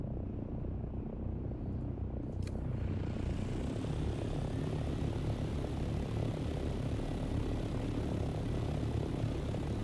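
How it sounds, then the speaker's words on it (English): Ornithopters flying overhead in the video game Dune Awakening, a dense, steady engine drone and whirring roar that swells in within the first seconds and then holds loud and continuous, with no talking. "There's like 12 ornithopters and one big chopper."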